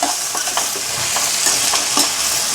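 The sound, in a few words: stirring dried prawns frying with onions and green chillies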